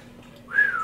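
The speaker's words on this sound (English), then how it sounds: "That's how you whistle. That's how you cat call." A single rising-falling human whistle, fairly close and clear, starting about halfway through after a quiet hum, shaped like a wolf whistle.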